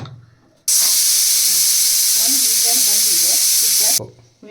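A loud, sharp steam hiss blasts from a pressure cooker for about three seconds, with quieter kitchen sounds before and after.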